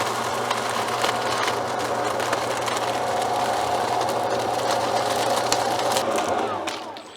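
A STIHL SHA140 battery leaf vacuum runs on hard ground, giving a steady, moderately loud whirring hum with a constant motor tone that holds evenly before tapering off at the end.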